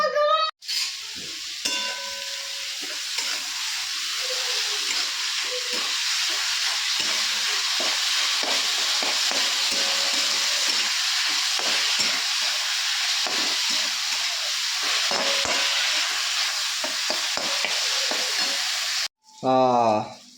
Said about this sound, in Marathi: ह्याच्यात तेल या आणि कांदा टमाटा भाजून घेऊ